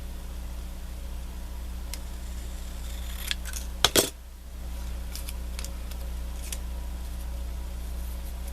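Scissors cut a paper strip for handmade quilt cards, giving one brief, sharp snip with a few light clicks around it over a steady low room hum.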